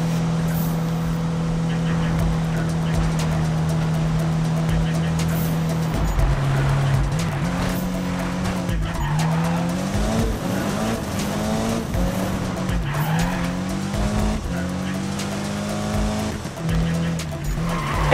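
A BMW race car in the Need for Speed video game drives continuously with a loud engine whose pitch climbs and drops through gear changes, with tire squeal and skidding on corners, under speech.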